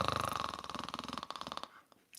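A jaw harp imitates snoring with rhythmic breath-driven twanging, a fast pulsing buzz of rough snore-like strokes that fades out near the end, up close and quiet.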